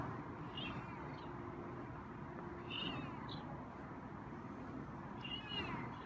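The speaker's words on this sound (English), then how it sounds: "And some light meows there." A few faint, soft meows from a feral cat being petted rise over a steady low background hum, spaced out and distant-sounding.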